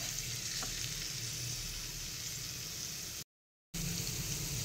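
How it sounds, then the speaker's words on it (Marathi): Chopped vegetables for lemon coriander soup sautéing in a pan, a continuous even sizzle heard close, briefly cut to silence near the end before resuming, with no talking. "या सगळ्या भाज्यांना आपल्याला 1-2 मिनिटंच परतून घ्यायच्या आहेत।"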